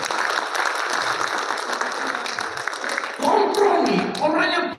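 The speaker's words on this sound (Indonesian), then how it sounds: "Tepuk tangan dulu buat Tuhan Yesus" Congregation at a church men's camp applauding, a sustained wash of clapping from a large indoor crowd, with voices and cheers rising near the end.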